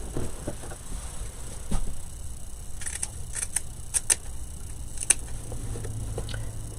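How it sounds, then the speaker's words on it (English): Fiskars scissors cut through paper in a series of soft snips and crisp clicks, irregular and close, with small rustles between cuts and no talking. "These are Fiskar scissors, and I love these for getting into points and stuff, like pointy sections."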